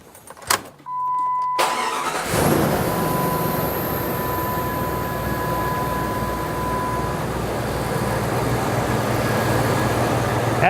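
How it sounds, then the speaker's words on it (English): A car engine cranks and catches after a few seconds of near silence and short electronic beeps, then settles into a loud, steady idle that holds to the end during an alternator charging test. "when I start it and run the engine"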